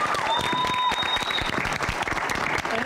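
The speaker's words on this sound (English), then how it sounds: "So Mr. Anderson, would you give him a big round of applause?" A high school concert audience applauds steadily, dense clapping filling the whole stretch, with a faint whistle-like tone early on.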